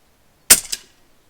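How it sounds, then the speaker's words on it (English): An FX Impact M4 air rifle fires one sharp, close shot with its hammer tension turned up, followed by a quick metallic ring that fades within half a second. "increase the tension of the hammer and start shooting"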